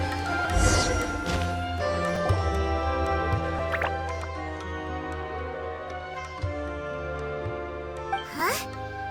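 Gentle water-droplet drips in Genshin Impact, a few scattered plinks and liquid plops over a soft, ambient musical backdrop with sustained tones, quiet and spaced apart.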